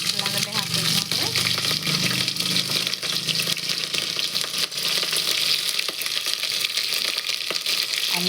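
Chopped onions and green chillies frying in hot oil with curry leaves for pulao, a loud steady crackling sizzle throughout with occasional stirring and faint voices in the background.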